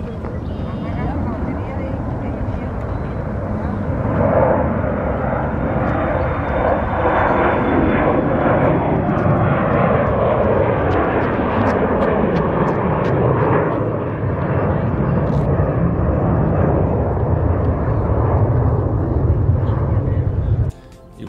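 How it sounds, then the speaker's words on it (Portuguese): A fixed-wing airplane takes off near Ronald Reagan Airport, its loud, steady engine roar sustained throughout with a slowly falling pitch sweep as it climbs away, alongside broadband wind and ambient noise, and no speech. "vocês acabaram de ver um avião decolando em uma das outras pistas"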